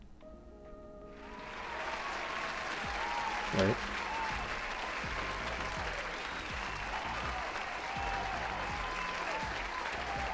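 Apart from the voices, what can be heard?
applause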